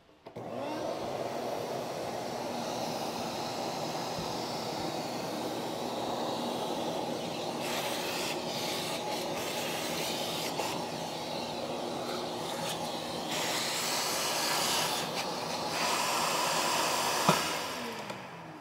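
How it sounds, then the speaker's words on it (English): Shop vac running alongside a saw during a wood stove hearth build, a steady loud whooshing roar held for the whole stretch with slight fluctuations and a short thump near the end, no talking. "Start with the shop vac."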